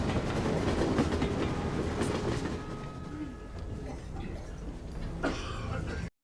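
A train runs along rails with a steady rumbling clatter, a dense continuous roar that eases slightly toward the end before cutting off.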